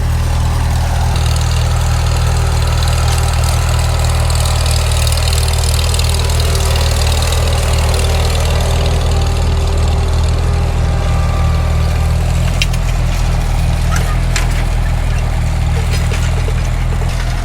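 A Farmall Super M tractor engine pulls an IH No. 2 subsoil plow through garden ground to break up hardpan, giving a loud, steady low rumble throughout with a few sharper clanks near the end.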